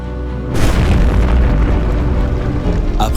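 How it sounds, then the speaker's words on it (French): A gunpowder magazine holding 70 tonnes of powder explodes during a siege as a loud, close boom, then a sustained deep rumbling roar that fills the next few seconds. "70 tonnes de poudre explosèrent dans une explosion dévastatrice"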